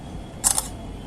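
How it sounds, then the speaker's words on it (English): A Samsung Galaxy Note 3 Neo plays its short camera-style shutter sound when taking a screenshot, a crisp double click heard close and alone over faint background hiss. "The shutter sound is pretty good."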